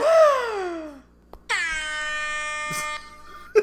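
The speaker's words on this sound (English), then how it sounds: "Shadow hears the air horns in his mind" Two loud blasts of a brassy air horn in Sonic Adventure 2, the first sliding downward in pitch, the second a long steady chord, separated by a short pause.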